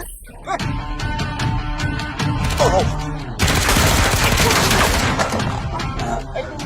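Gunfire in a film battle scene: bursts of automatic fire and sharp single shots crackle close by, swelling into a sustained, loud volley, with a voice briefly heard in the middle.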